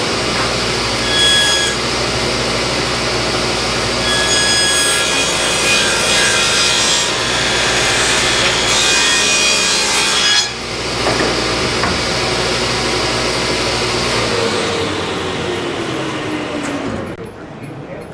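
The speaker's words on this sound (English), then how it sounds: "we're going to take all our weather strip holders and we're going to run a kerf down them" A saw cuts a kerf along wooden weather strip holders, a loud, close, sustained sawing rasp with brief high squeals, easing off near the end as the cut finishes.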